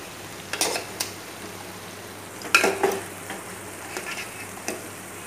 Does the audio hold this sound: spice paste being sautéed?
yes